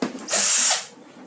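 Hitachi DS12DVF3 cordless drill driver running, a short high-pitched motor whine that spins up, holds for about half a second and winds down, heard close and alone.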